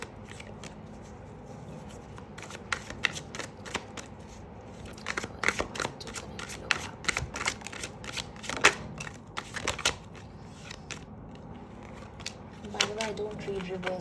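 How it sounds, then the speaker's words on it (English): Tarot cards are shuffled by hand in a continuous series of crisp riffling flutters and soft slaps, close and clear, with quiet talking in the background. "I'm gonna go ahead and shuffle your tarot cards"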